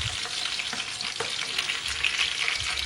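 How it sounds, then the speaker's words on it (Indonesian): Tofu pieces fry in hot oil in a wok, giving a steady, close, loud sizzle with crackling spatter and occasional stirring scrapes throughout, no voices. "Kita mau goreng terlebih dahulu tahunya ya"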